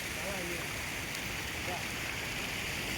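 Water from the fountain at KLCC, the Petronas Twin Towers in Kuala Lumpur, rushes in a steady, dense wash like a stream or heavy rain, continuous throughout, with faint voices in the background.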